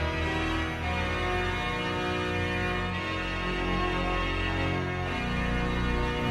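A digital organ modeled on the Jordi Bosch organ in Santanyi plays a dense, sustained full chord with many stops drawn and a large mixture, steady and loud throughout without a break.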